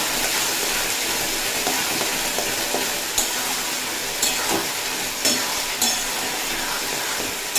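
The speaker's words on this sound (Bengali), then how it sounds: "সেই বাটা মশলাটা দিয়ে লাউয়ের সঙ্গে খুব ভালোভাবে কষিয়ে নেব যাতে মশলার কাঁচা গন্ধটা চলে যায়" Bottle gourd being sautéed in a pan with ground ginger, chilli and tomato paste, a steady close sizzle with occasional sharp stirring scrapes and clinks.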